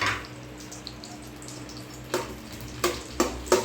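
Cashews and raisins fry in ghee in a pan for bread halwa, with a soft sizzle underneath and several sharp stirring scrapes and clatters close by toward the end.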